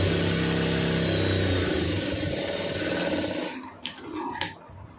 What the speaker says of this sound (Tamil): அப்படியே ஒரு கால் இன்ச்சு தையல் போட்டுருங்க